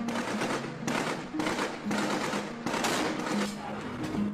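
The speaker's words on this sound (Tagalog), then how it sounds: "naglunsad ng mga warning shots ang security ng barko pero agad na gumanti ng putok ang mga pirata" A ship's security team fires warning shots at approaching pirates. Several sharp bursts of gunfire come in quick succession at a steady rhythm, heard from a distance and somewhat muffled, with no talking.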